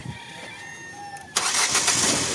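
Ford EcoSport engine cranking and catching after timing belt work, a sudden loud burst of starting noise following a quieter stretch with faint high tones, then settling into a steady run.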